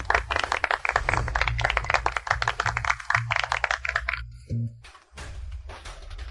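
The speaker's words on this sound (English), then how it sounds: "Let's give the warmest applause to welcome Professor Chi-Chong." An audience claps warmly to welcome a professor to a mathematics competition stage, a dense, steady patter of many hands that breaks off abruptly, then resumes briefly.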